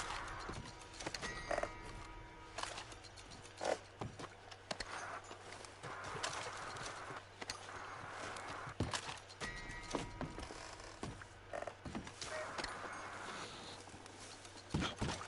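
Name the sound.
horse galloping, from the video game Red Dead Redemption 2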